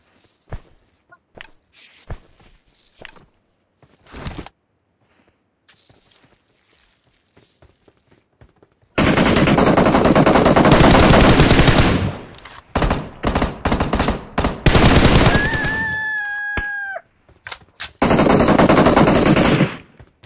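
Gunfire in the mobile battle-royale game PUBG Mobile: scattered footsteps and small clicks, then long, loud, sustained bursts of automatic machine-gun fire with brief gaps and a rising whistling effect, ending in another rapid burst.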